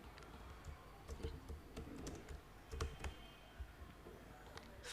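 Steady typing of Java code on a computer keyboard, a quick irregular run of soft key clicks continuing throughout at moderate, close level with background hum.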